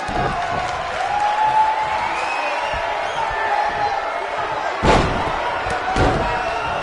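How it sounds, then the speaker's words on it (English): Video game wrestling arena crowd at a sold-out event, a continuous loud crowd roar with a couple of sharp slam impacts. "We have a sold-out, record-setting crowd here for BCW tonight."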